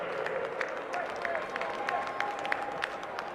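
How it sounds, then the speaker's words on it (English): A large crowd at the 2022 Dunedin Premier rugby final applauds in a steady, dense wash of clapping, with an amplified voice speaking over it. "First of all, a round of applause for the crowd."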